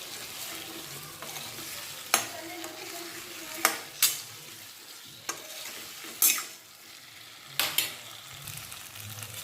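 Fried potatoes being stirred in a sizzling pan, a constant frying hiss broken by several sharp scraping and clacking strokes of the spoon at irregular intervals, close by.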